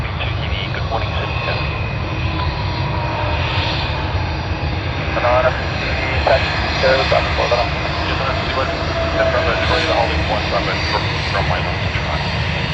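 Jetstar jet airliners taxi and run their engines at Sydney Airport, giving a continuous loud jet rumble and whine close by. Voices talk over the engine noise throughout.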